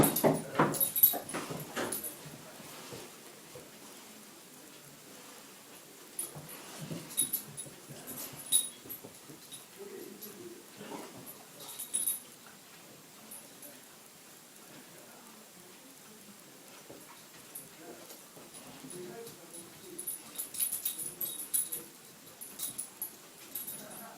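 Dogs whimpering and yipping in short, intermittent bursts, fairly faint and distant, with quiet patches between, over a soft steady patter like rain on a surface.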